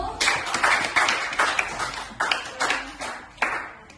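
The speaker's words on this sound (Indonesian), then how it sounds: "Beri aplaus pada kelompok 1" A classroom group applauds the first student group after a peer-teaching presentation: a short run of sharp, evenly spaced hand claps, each ringing briefly in the room, with no talking.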